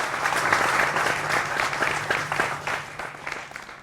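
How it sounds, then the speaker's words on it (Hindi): A studio audience at a televised political debate show claps steadily, a close, even patter of many hands that gradually thins toward the end. "जोरदार तालियों से सभी का अभिनंदन है"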